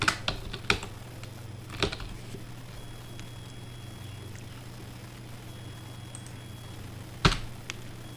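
Keys on a computer keyboard are pressed in sparse, quiet clicks, a small cluster early on and a sharper lone tap near the end, over a low steady hum.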